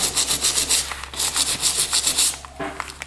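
A dirty 1911 pistol part is scrubbed with a brush in quick, even back-and-forth strokes. The rubbing is loud and close and runs steadily with no talk.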